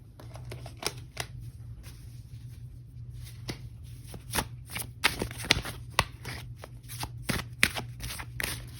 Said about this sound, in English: my cards are shuffled